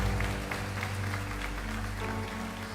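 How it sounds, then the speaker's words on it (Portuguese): A church congregation applauding during a Sunday morning service, dense continuous clapping from many hands filling the room at an even level throughout, with no break. "Você pode aplaudir mais forte a Jesus esta manhã?"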